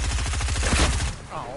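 Rapid automatic gunfire from Fortnite gameplay rattles loudly in a steady burst for about a second, then cuts off, leaving quieter game sounds behind.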